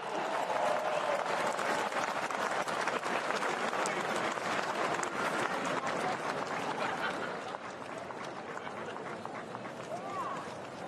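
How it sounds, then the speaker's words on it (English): Racegoers at Royal Ascot racecourse give a big, sustained round of applause after a winner, broad crowd clapping that eases slightly near the end, with a commentator's voice under it. "A big round of applause, please, Frankie Dettori"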